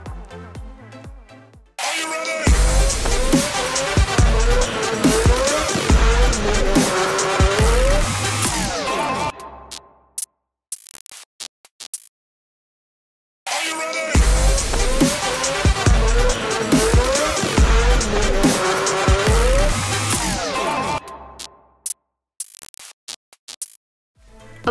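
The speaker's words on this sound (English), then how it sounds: "take Reandi Grey around the Kartzone track here at Swartkops" Go-karts racing around the Kartzone track at Swartkops, engines buzzing loudly with tire squeal, in two long bursts separated by near silence.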